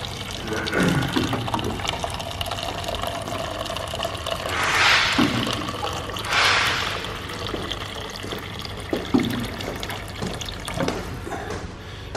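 Water runs from a tap in a gym in two short gushing bursts, a steady close flow starting and stopping, over a low background hum with no talking.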